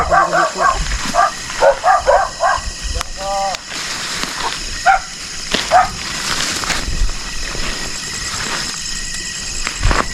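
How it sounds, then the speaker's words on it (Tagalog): A dog barks in a quick series of yips near the start, then a few more scattered barks follow amid background noise and clatter. "Maingay kasi yung aso ni Pilimon."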